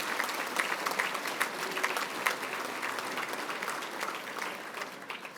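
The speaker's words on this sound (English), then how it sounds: "Can I please have a round of applause for our second group of nominees?" An audience at an awards ceremony applauds steadily, a dense wash of clapping that holds at an even level throughout.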